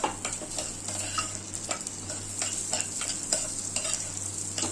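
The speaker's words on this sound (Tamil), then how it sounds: "இப்போ இந்த லாப்சியை போட்டு வறுக்கணும்." Broken wheat (lapsi) roasting in ghee in a pan, with a soft steady sizzle under repeated light scrapes and stirring clicks of a spoon against the pan, fairly quiet and close.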